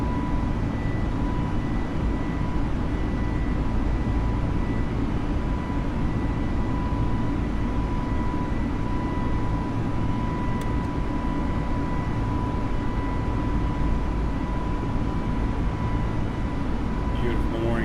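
Simulated Airbus A321 jet climbing out after takeoff in Microsoft Flight Simulator, heard as a steady, loud, unbroken engine roar and rumble with a faint tonal whine running the whole time.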